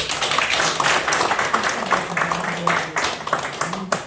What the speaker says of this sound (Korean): 박수 한번 드리겠습니다